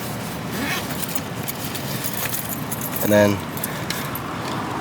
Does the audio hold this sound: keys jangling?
yes